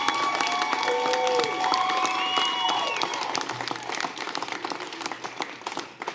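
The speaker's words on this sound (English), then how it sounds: "I want y'all to give her a round of applause." Steady crowd applause at an election night victory speech, loud and continuous, with a few whoops and cheers mixed in, tapering slightly toward the end.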